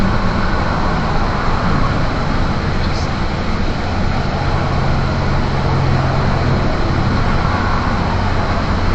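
A car drives along a road, captured by a FONDIM A99WB dash cam, as a loud, constant broadband rumble of road and engine noise that holds steady throughout.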